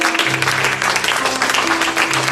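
A church congregation claps and acclaims the Lord in a loud, continuous burst of applause, with voices calling out over it.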